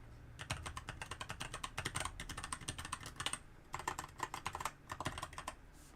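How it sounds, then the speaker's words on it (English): Keystrokes on a keypad fitted with Kailh Speed Copper tactile switches, typed in fast, close, crisp clattering bursts separated by short pauses, with no voices. "This right here has Kale Speed Copper tactile switches."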